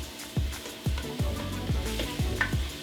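Onions sautéing in a pan for a Guyanese-style lentil vegetable stew, a steady sizzle broken by about five rhythmic spoon scrapes and stirs, close and moderately quiet.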